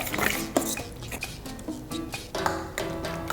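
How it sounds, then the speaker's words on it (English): Plantain banana bread batter mixed in a bowl, with a utensil repeatedly scraping and tapping against the dish in an uneven rhythm, close and moderately loud. "So just mix this really well."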